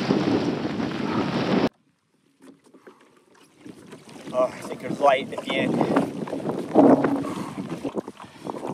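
Wind gusts buffet a kayak on a Charleston, South Carolina inshore creek during a passing storm, roaring broadband bursts loud up front, then a brief lull before rushing gusts return beneath a voice.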